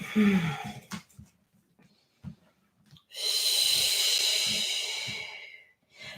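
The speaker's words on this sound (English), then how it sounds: "Let's take 3 breaths here." Someone practising a hatha yoga flow breathes slowly and deeply, with a few soft short breaths first, then one long steady rushing exhale lasting about two seconds, close to the microphone.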